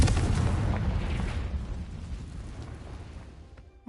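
A magical Confringo blast spell goes off as a loud, rumbling explosive burst that roars and then slowly fades over a few seconds before cutting off.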